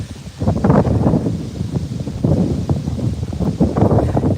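Strong wind blowing on an outdoor walk beside the Kemi River near university buildings, a steady low roar with gusty swells and buffeting against the microphone throughout.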